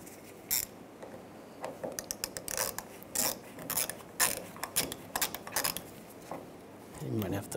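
A ratchet and hand work on the bolts of a fuel pump on a 1999–2006 Chevrolet Silverado 1500, with scattered short clicks, scrapes and metallic rasps near at hand and a voice briefly audible near the end.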